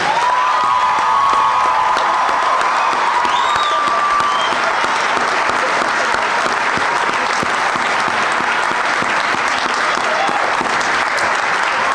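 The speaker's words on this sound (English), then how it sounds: "Let's do one more round of applause to the class of 2019." A large crowd at a college commencement applauds steadily and loudly for several seconds, with a few cheers rising over the sustained clapping.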